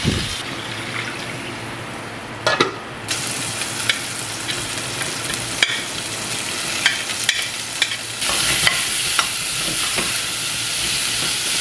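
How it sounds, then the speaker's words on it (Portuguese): Chopped onion sizzles and fries in a hot pan on a home stove with a steady, crackling hiss. Scattered clicks and stirring sounds come through, and the frying grows louder toward the end, with no talking. "Coloquei a cebola agora, pessoal, e vou deixar ela murchar aqui um pouquinho"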